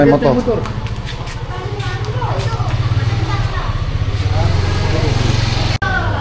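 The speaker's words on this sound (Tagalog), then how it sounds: "Ay, may motor." A motorcycle engine drones steadily nearby and swells as it passes during a Christmas family gathering, with people talking over it throughout.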